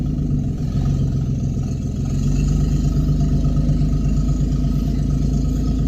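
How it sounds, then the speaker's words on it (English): An old pickup truck's engine running loudly nearby, a steady low rumbling drone that swells slightly after a couple of seconds and holds, with no talking over it. "the old truck is loud"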